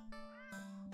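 A cat in a horror video game gives a single near, clear meow that rises and then holds, heard alone.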